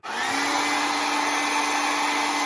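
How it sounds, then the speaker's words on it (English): Hair dryer on its cool setting blows a steady, even whoosh while drying glue on a wig, starting abruptly and holding constant at close range. "The blow dryer is set to cool, and I'm just drying the glue here."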